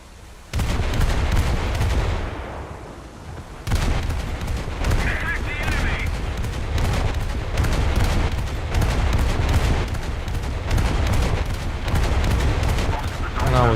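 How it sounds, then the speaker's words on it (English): Warship air gunners fire anti-aircraft guns in a US coastal naval battle game, rapid repeated heavy bursts pounding continuously and loud, with booming shots layered over a dense battle rumble. "So my air gunners can shoot at aircraft."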